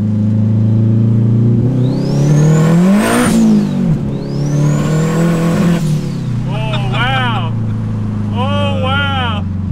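A turbocharged 4G15 engine in a Mitsubishi Lancer revs hard in two long swelling pulls, each rising to a whining peak and falling away, heard from inside the car with excited voices over the steady drone.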